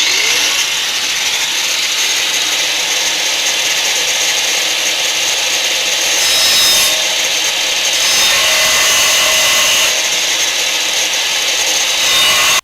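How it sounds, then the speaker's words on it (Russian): Angle grinder cutting through a hardened steel harrow disc, a loud continuous high-pitched grinding whine with shifting pitch as the blade bites, steady throughout with no talking. "берем болгарку и понеслась."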